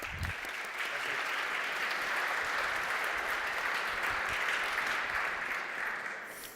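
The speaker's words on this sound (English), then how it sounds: "Please give a big round of applause" A conference audience applauding as two speakers, a CEO and a CTO, walk on stage, a broad even wash of clapping that swells, holds steady for several seconds, then begins to fade.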